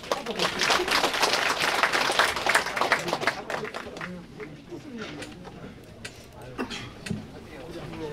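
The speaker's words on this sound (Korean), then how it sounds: "큰 박수로 맞이해 주시기 바랍니다." Audience applause welcoming a township head to the podium at a Korean community meeting in Guryong-myeon, loud clapping at first that thins and fades after a few seconds, leaving scattered claps and room noise.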